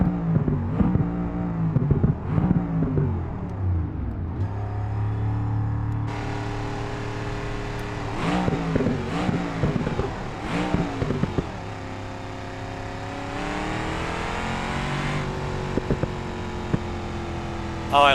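Stock car engine in BeamNG.Drive revving hard through repeated rising and falling surges on a short course, loud and continuous, with someone talking over it in places.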